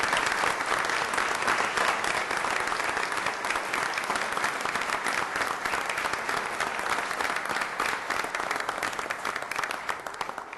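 Sustained audience applause at a council meeting, greeting two newly sworn police officers: dense, steady clapping fills the room from start to finish, loud and continuous with no talk over it.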